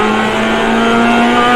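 A GMX5 race car in iRacing holds its engine against the rev limiter, a loud, steady, buzzing drone at a fixed high pitch with no talking.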